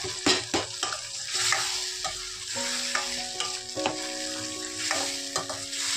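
Vegetables frying in oil in a pan with salt added, stirred with a spoon: a steady close sizzle broken by repeated sharp scraping and clanking stirs, with a few faint tonal rings in the background.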